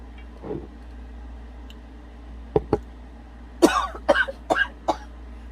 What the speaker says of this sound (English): That's what's making me cough, all these spices.